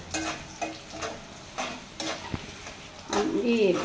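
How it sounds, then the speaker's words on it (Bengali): Dried red chillies go into hot oil for a Bengali dal chachchori. A few scraping stirs and light clinks are followed by a brighter sizzle that swells toward the end. "তারপর দিয়ে দিচ্ছি এই যে শুকনো মরিচ"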